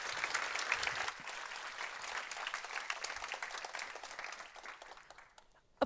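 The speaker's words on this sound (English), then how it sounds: "Give a huge round of applause to Yalda." An audience at a Nordic female investor meetup gives a speaker a round of applause, a sustained wash of many clapping hands that fades out near the end.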